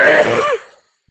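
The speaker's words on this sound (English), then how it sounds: "That was a sneeze." A single short, explosive burst from one person, harsh and breathy, lasting about half a second before fading into silence.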